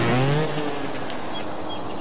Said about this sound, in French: Ah, j'ai pris une moto un peu poussive.